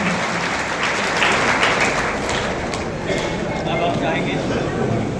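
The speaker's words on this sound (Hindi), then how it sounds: "जोरदार तालियों के साथ सर का स्वागत किया जाए।" Loud, sustained applause from a seated crowd at a civic felicitation ceremony in Darbhanga, dense clapping that holds steady throughout with voices mixed in underneath.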